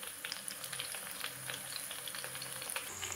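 Prawns dropped into a hot pan for chilli prawns, crackling and popping in a steady, fine sizzle with scattered sharper spits, close and fairly quiet, with no voices.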